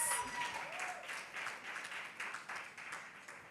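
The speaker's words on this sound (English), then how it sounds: "Another round of applause," Faint audience applause at a panel session, a steady wash of many hands clapping at a distance that continues throughout the short stretch.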